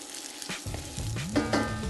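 Ginger slices hitting hot oil in a pan for Kung Pao chicken, a steady close sizzle and frying hiss that swells as the pieces are stirred, with no voices.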